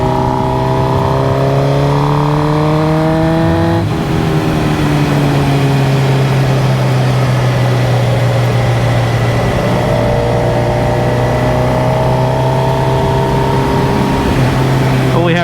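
A Suzuki GSXR 1000 motorcycle is ridden on a test loop after a transmission install. The engine is loud and close throughout, rising in pitch through the gears, with a shift break and further climbs.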